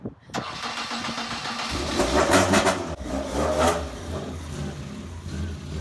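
A Ford Escort Mk2 engine cranks and struggles to fire, the starter churning with uneven bursts and revs that never settle into a steady idle, loud and close.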